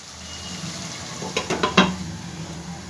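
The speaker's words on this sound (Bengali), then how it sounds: "আরো আর একবার ঢাকনা দিয়ে দেবো" A lid is set on a pan of eggs cooking with spices: a few quick metallic clinks and taps close together over a soft, steady sizzle, with no talking.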